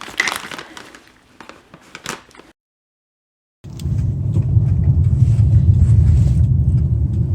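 An Infiniti Q45 with new front sway bar links drives on a test drive, giving a steady low road and engine rumble inside the cabin after a short stretch of crinkling handling noise and a silent gap.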